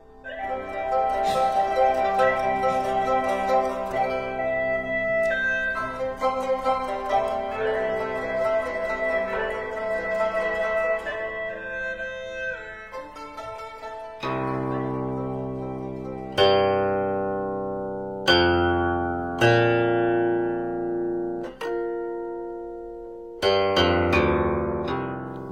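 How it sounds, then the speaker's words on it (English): An ancient Chinese qin zither is played, first a flowing run of plucked, sustained notes, then sparse single plucks that ring and decay slowly, clear and close. "What you're hearing is the qin"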